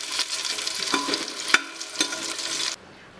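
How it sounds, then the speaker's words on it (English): Food shallow frying in a pan over a medium flame, a steady close sizzle with a few sharper crackles and stirring taps, cutting off abruptly near the end. "let us shallow fry it"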